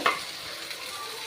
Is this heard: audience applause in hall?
no